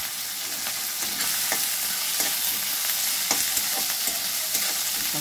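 Chopped onions fry in hot oil in a pan, giving a continuous close sizzle broken by scraping stirring strokes.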